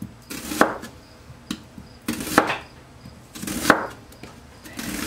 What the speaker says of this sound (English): Now you want to add some red onion. And with this, you're going to want to cut real thin